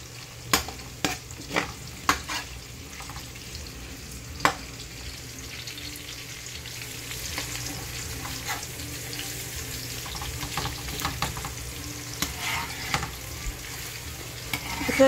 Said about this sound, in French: Je vais frire du basil, du thym dans l'huile pour une bonne saveur.